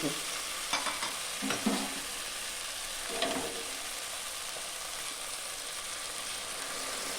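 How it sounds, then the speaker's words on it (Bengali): Hot water goes into a pan of mutton and potato curry, setting off a steady hiss and sizzle with a few sharp spatters and stirring scrapes near the start, constant and close with no voices. "আমি এবারে এই গরম জল দিয়ে দেবো।"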